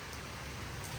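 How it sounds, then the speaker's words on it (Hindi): Heavy rain pours down steadily during Cyclone Garance over Mauritius and La Réunion. It is a dense, close, constant hiss of falling water with no pauses. "बारिश, इतनी तेज़ बारिश हो रही है"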